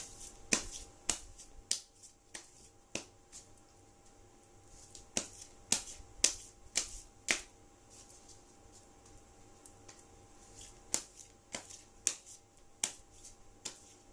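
Tarot cards being shuffled and handled during a reading, giving a run of sharp, irregular slaps and flicks near the microphone over a faint steady background hum, with no voices.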